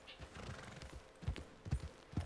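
Horse hooves clip-clop in an uneven rhythm with a brief whinny, against a steady game-like background hum, in Red Dead Redemption 2.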